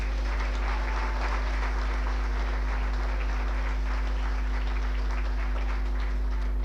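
A roomful of diners at a 1999 celebration dinner for St Joseph's Doora-Barefield applauds in a steady, moderately loud patter, with a constant low electrical hum underneath.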